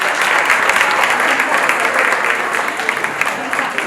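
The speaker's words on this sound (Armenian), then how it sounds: "անգամ եւս ծափարություններով կջամփենք Նաիրի բարախումբը" Audience clapping for the Nairi band at an Armenian Relief Society 115th anniversary event, a dense, loud, sustained burst of applause from a crowded hall, with faint voices mixed in.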